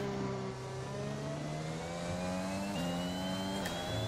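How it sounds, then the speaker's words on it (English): Failing F1 car engine in the F1 2021 racing game, a sustained mid-pitched engine drone whose tone slides gradually upward, loud and steady with no talking. "We can confirm that it's an issue with our engine."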